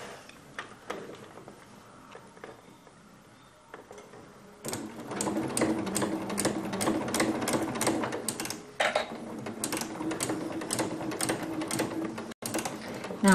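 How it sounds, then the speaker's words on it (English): A Janome sewing machine stitching a mug rug runs in a steady rapid mechanical whir with a ticking needle rhythm, quieter at first and then louder and continuous from about five seconds on, with a brief pause near the end. "Now I'm going to stitch until I can see that corner and the needle has gone right down into that corner"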